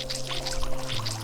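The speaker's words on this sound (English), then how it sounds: "We should refill the water as well." Water pours steadily to refill a supply in the survival video game Dead in Bermuda, a continuous splashing gush heard over a low steady game hum, brief and without talk.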